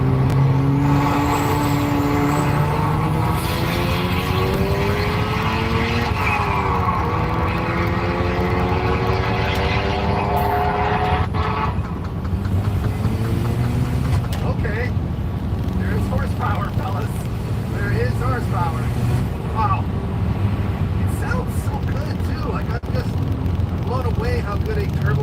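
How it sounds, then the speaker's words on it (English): Porsche 996 fitted with a turbocharged Honda K24 engine, revving and accelerating hard, loud and close, its engine note climbing repeatedly through the gears under a continuous rush, with speech mixed in. "How good a turbo K24 sounds in the back end of a Porsche."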